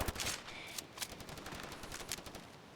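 Rapid bursts of gunfire in a shooter video game, a quick string of sharp cracks at moderate distance with no talk over them.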